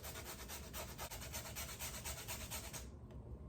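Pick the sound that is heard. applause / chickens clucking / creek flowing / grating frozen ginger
grating frozen ginger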